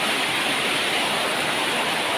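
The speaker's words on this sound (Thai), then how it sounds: "ฝนตกที่บ้านกดกอกกันแล้วนะครับ" Rain falls hard and steadily at home, a thick, even wash of hissing noise close by that never lets up, with no voices.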